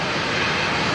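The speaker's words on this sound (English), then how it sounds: "Might actually be one of the Jetstar aircraft here" A Jetstar jet airliner idling at Auckland Airport gives a steady, broadband engine roar with a continuous whine. The level holds constant throughout, with no talk over it.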